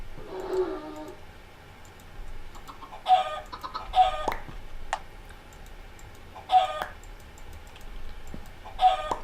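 Chickens in the Minecraft StoneBlock modpack, including a bone white chicken, cluck in short repeated bursts of a few calls each, with an early call that is louder, set against a quiet background.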